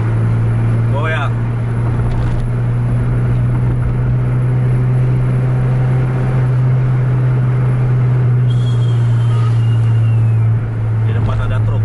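A Scania truck racing and overtaking on the road, its engine a loud steady low drone that holds throughout, with brief rattles and passing noise layered on top.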